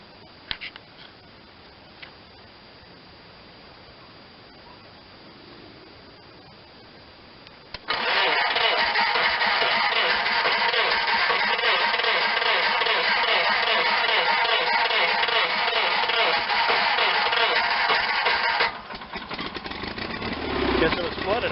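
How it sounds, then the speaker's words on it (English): A John Deere 318 garden tractor engine catches after a quiet stretch of faint ticking, then runs loud and steady for roughly ten seconds before settling into a rougher, lower idle. "let me start the tractor up and see which way it has to go"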